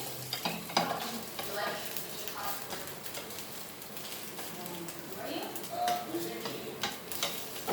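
Bread fritters frying in a hot pan, a continuous sizzle with light stirring and scraping, faint and close, occasional small pops through the hiss.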